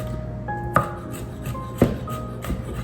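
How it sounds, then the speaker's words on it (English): Garlic being chopped with a knife on a board while making fried cabbage, a few sparse, sharp knife strikes spaced about a second apart, close and fairly quiet, with a faint steady hum underneath. "Then we want to just chop up our garlic."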